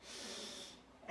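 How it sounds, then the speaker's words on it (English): A single deep inhale through the nose during a yoga session, close and breathy, swelling briefly and then fading as the breath is taken in. "take a deep breath in"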